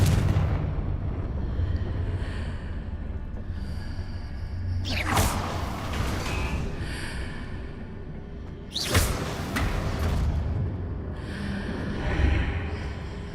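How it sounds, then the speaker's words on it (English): Combat spells in Hogwarts Legacy, including a disarming cast and an explosive blast, land as two big booming whooshes over a dense, rumbling game soundscape, loud and close. "Expelliarmus! Confringo!"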